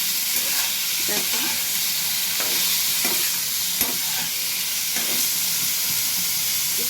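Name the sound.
stirring and tossing matar paneer ingredients in oil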